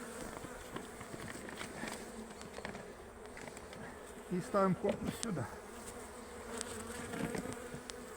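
A steady, close buzzing of many honey bees humming continuously at an opened hive as frames are moved, with someone speaking briefly over it and some handling noises.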